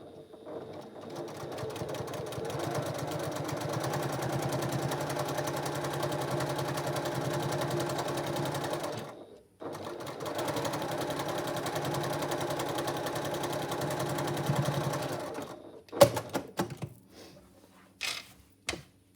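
A sewing machine top-stitches a zipper tab in two long, steady whirring runs separated by a brief pause, close and even, ending with a few sharp clicks and thumps of handling.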